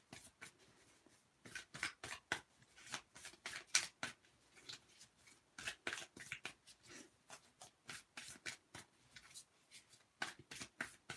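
Dark Mansion Tarot cards are shuffled by hand in quick riffling bursts, a series of crisp papery flutters with short pauses between, close and fairly quiet.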